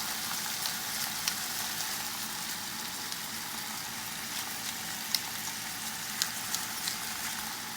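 New York strip steak seasoned with salt and pepper fries in a pan, giving a steady, even sizzle with small scattered pops and crackles throughout, with no talking.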